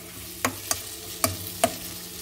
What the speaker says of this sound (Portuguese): Eu vou refogar bem aqui esse tempero